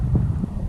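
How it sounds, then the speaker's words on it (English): Wind gusts buffet a microphone outdoors on a fall evening in Custer County, Colorado, a low, constant rumble with a couple of brief swells and no talk. "It's getting quite windy"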